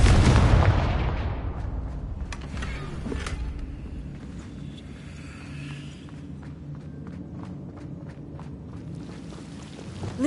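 A Confringo spell explosion in the Hogwarts Legacy video game opens with a loud, deep boom that decays slowly into a rumbling tail, followed by scattered crackles and light impacts.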